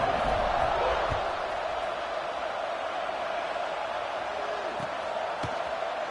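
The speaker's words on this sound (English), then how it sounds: "this crowd now ready to get behind them" A football stadium crowd waits for kickoff, a dense continuous roar of cheering and noise filling the space, steady and loud with brief sharp shouts rising through it.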